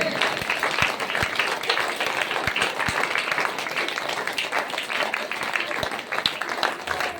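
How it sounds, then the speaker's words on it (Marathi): A crowd claps hard and fast at a devotional kirtan in Katol, a dense, continuous applause with sharp individual claps standing out. A voice speaks over the clapping. "जोरात टाळ्या होऊ द्या"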